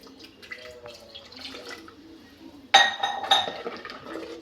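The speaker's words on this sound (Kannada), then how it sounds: "ನಾನು ಒಂಚೂರು ನೀರು ಹಾಕ್ಕೊತೀನಿ." A little water poured into a simmering chicken and field-bean curry, a soft clinking start followed by a sudden louder splash of water hitting the pot and glassy clinks that fade out.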